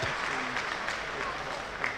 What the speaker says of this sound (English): Quite a long period of applause there.